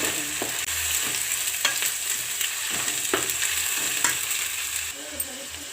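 Ginger garlic paste fries in a pan for egg biryani, giving a continuous close sizzle broken by periodic stirring scrapes and clicks, with no talking.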